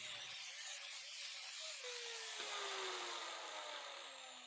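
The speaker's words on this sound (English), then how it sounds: "Here I'm using a flat disc to clean up all the welds and to do some final shaping." A flat disc on an angle grinder dresses the welds on a steel woodturning tool rest, giving a loud, continuous high-pitched grinding whine whose pitch slides slowly downward as the disc is pressed into the metal.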